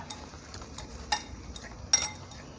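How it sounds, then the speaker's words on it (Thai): Utensils scrape and clink against a bowl in irregular strokes while stirring egg and instant noodles together, quiet and close, with a couple of sharper taps. "แล้วก็คนให้เข้ากันดีนะคะ"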